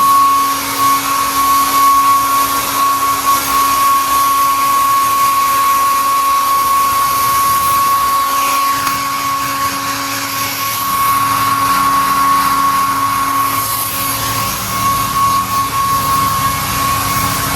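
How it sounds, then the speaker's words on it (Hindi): A hair dryer blows steadily on freshly bathed dogs, held at a distance, giving a loud, continuous whooshing whine with a constant hum that barely changes over the whole stretch. "तो इसके लिए हम दूर से इनको सुखा रहे हैं"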